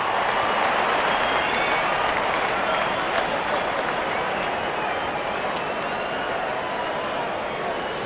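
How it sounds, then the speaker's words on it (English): A cricket stadium crowd in a video game cheers in a dense, continuous roar that stays loud and even from start to finish. "There's such a wonderful crowd in to watch their favorite players."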